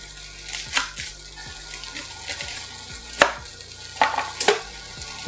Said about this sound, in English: start placing the tomatoes on the skillet and chop up my onion